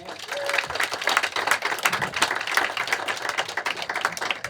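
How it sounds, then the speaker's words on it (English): Audience applause at a company brick ceremony celebrating staff service anniversaries, a dense steady clapping from a crowd lasting throughout, fairly loud and even with a few voices mixed in. "Round of applause."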